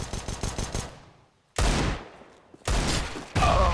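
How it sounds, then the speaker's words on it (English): Desert Eagle pistol fire in the game Counter-Strike on the Inferno map: a rapid string of sharp close shots, then after a pause two heavy booming bursts, each trailing off. "this guy is going nuts with the Deagle at the moment"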